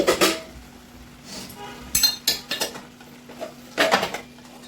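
Steel pots and utensils clink and clatter in bursts while a pressure cooker is set up with rice, sharp metallic knocks at close range separated by short pauses, no talking.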